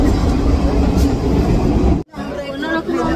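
Dense crowd hubbub at a busy railway platform during heavy rain on the Shravani Mela pilgrimage, with a constant roar of voices and train noise, broken by a brief dropout before the babble resumes.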